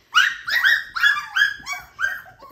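Five-week-old F1b Cavapoo puppies yipping and barking in a quick series of about six high, squeaky close-up barks with whimpery tails, no voices over them.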